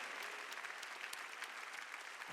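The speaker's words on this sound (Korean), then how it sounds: "박수치라" A church congregation at a Sunday worship service claps hands steadily and densely, a continuous wash of applause at moderate distance with no voices over it.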